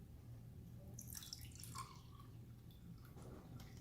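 Water poured onto an absorbent Jewel Pad makes soft, faint trickling and dripping sounds that come and go over a quiet background.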